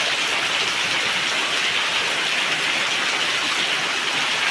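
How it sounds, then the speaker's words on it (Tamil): Heavy rain pouring down steadily in Arakkonam, a dense, loud, unbroken hiss of water close by, with no talking. "எவ்வளோ மழை பாரு எப்படி கொட்டுது அழகா"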